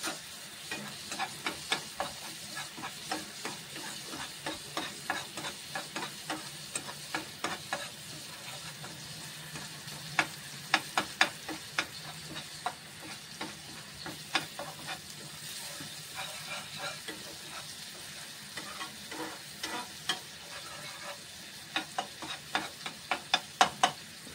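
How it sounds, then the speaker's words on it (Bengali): Turmeric, chili powder and green chilies fry in oil with a steady close sizzle, broken again and again by the scrape and clatter of stirring, and no one speaks. "দেখতে পাচ্ছ মশলাগুলো প্রায় ফ্রাই হয়ে গেছে, তেল ছেড়ে দিয়েছে মশলা থেকে।"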